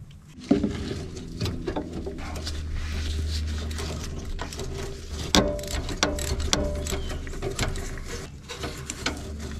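Ratcheting wrench clicks in quick bursts while loosening bolts on an abandoned bulldozer left outdoors for over 20 years, close and fairly loud, with metallic taps and a low steady hum underneath.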